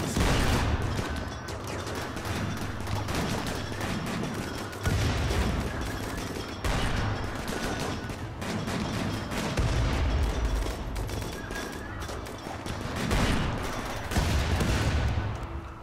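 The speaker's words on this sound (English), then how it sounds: "Stop shooting at us!" Sustained gunfire in the video game Rimworld, dense overlapping bursts and rapid volleys with heavy booming thuds rolling continuously at steady loudness throughout.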